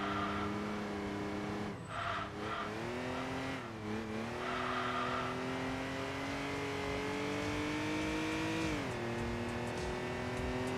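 A V6 car engine with exhaust upgrades, in the racing video game Enthusia Professional Racing, drones and revs steadily at high pitch, then climbs sharply near the end as the revs rise, loud and continuous without talk.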